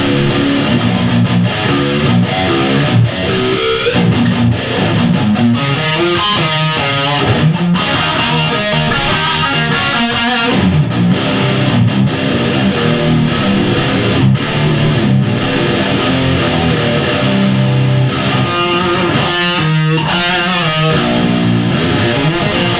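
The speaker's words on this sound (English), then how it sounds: "here's a big fat crunch sound from the lead channel of the Mark IV" A Sterling JP70 electric guitar on its bridge pickup plays a thick crunch rhythm through the lead channel of a Mark IV amp, with dense, continuous distorted chords and riffs at steady volume, no talking.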